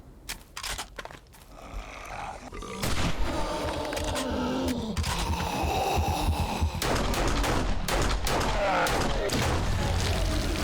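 Rifle gunfire in the survival game 7 Days to Die, a dense burst of loud cracking shots and booms overlapping with game noise and a continuous roar across the whole stretch.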